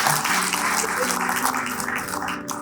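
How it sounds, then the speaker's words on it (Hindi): Audience applause after a call to clap for Dr. Dinesh Shah at a live interactive session, a steady, dense wash of clapping filling the room for a few seconds with some voices mixed in. "तो एक बार जोरदार तालियां इनके लिए बजा दें"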